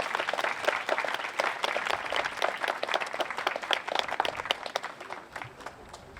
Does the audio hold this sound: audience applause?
yes